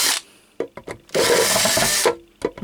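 A power drill works on a Sencore Handy 75 restoration, with short whirring bursts followed by a longer loud grinding run of about a second, close and harsh, broken by brief clicks.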